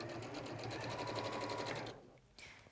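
A domestic sewing machine runs steadily through fabric up close, its fast even needle rhythm carrying for about two seconds before stopping, then a brief restart. No voices are heard.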